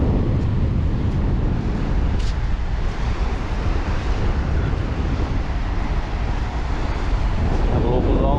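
Strong, steady wind on a beach at the southern end of Moreton Island buffeting the microphone with a constant low roar and rumble, no pauses throughout.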